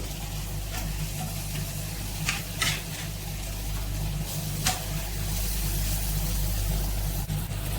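A sardine roast with masala sizzles steadily in a pan while a utensil scrapes and stirs it in a few distinct strokes, close and continuous under a low hum.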